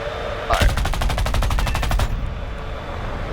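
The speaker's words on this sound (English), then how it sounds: "Do the machine guns first." Rapid machine-gun fire from a Bell P-59 jet in War Thunder, a steady burst of about fifteen evenly spaced, loud shots lasting roughly a second and a half, then cutting off abruptly.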